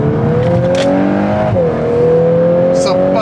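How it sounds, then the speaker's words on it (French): Volkswagen Golf 8 R accelerating hard, engine note climbing steadily with a brief dip at a gear change before pulling on, loud and close from inside the car. "Ça passe les vitesses comme dans du beurre."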